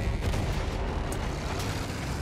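Explosions and gunfire in a Battlefield 1 battle rumble continuously, with dense low booms and scattered sharper shots blending into a loud, unbroken wall of combat noise.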